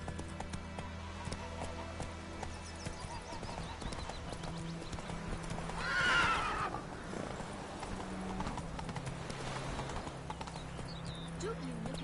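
Hooves of the horse Roach clip-clop at a trot in The Witcher 3, with a whinny partway through, steady and mid-distance over a low game soundtrack, while a voice talks.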